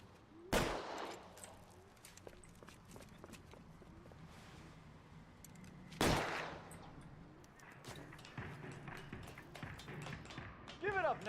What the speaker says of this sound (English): I think I'm supposed to shoot at his pistol